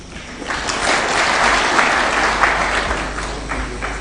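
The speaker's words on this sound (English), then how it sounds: "a round of applause for His Excellency one more time" Guests at a Taxpayers' Dinner at State House, Nairobi, break into applause for the President, with clapping that swells in after a quiet start, holds full and lively, then thins slightly toward the end.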